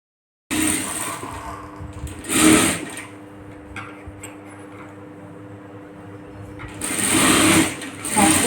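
A tailor's sewing machine stitches the back piece of a blouse, running in steady bursts with a loud surge at the start and end and a quieter hum in between.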